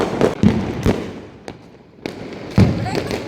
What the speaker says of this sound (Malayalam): എല്ലാവരും അഞ്ച് മണിയൊക്കെ ആയപ്പോൾ പടക്കം പൊട്ടിക്കാൻ തുടങ്ങി